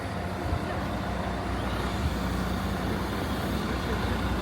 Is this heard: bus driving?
yes